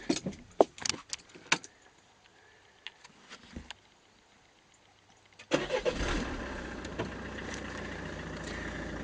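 Peugeot 5008 ignition switched on after some clicks and handling noises, then the engine cranks and catches into a steady idle, heard from inside the car at moderate level with no talk.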